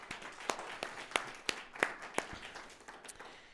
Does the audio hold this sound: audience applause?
yes